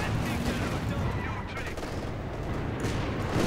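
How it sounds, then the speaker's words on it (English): Artillery and small arms fire in a 4v4 tournament match of the World War II strategy game Company of Heroes 2: a dense, continuous roar of overlapping shots and blasts, steady and loud throughout. "Artillery firing."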